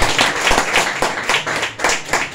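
A church congregation claps together in a rhythmic burst of applause, a series of sharp, even beats that fill the space, loud and close with no speech over it.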